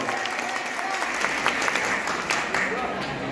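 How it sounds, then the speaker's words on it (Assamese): Audience applause at a college week prize-giving for procession teams, with dense, steady clapping from a large crowd sustained throughout, with a voice faintly mixed in. "হাত চাপৰিবোৰ ডাঙৰ হ'ব লাগে, তেওঁলোকৰ কষ্ট জড়িত হৈ আছে ইয়াত।"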